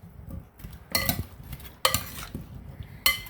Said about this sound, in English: I'm just going to stir all that yummy butter and honey mixture over the potatoes.